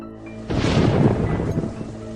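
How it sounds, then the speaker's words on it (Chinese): Rain bursts in suddenly in an animated series, a dense rushing wash that swells loud within half a second and holds steady, alone with a faint musical hum beneath. "下雨了。"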